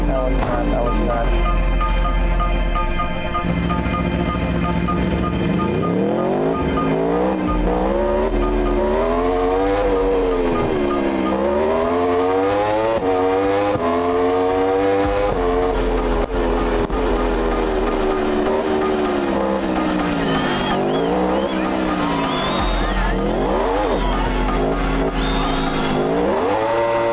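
A race car engine in the Flash Dash racing game drives a lap, its loud, continuous whine rising and falling in pitch with gear changes and acceleration over a steady backing track.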